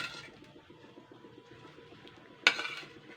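Bata fish tipped into a pot of simmering spicy Bengali fish curry: soft, quiet kitchen stirring and clatter, then a single sharp clink and splash near the end.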